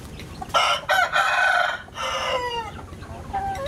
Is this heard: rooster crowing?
yes